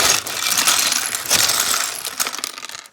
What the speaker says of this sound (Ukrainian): Давайте висипемо прямо на стіл.